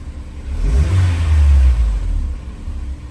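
A Honda S2000 fitted with a lightweight flywheel idles and then revs briefly, a close, loud engine rumble that swells and eases back down.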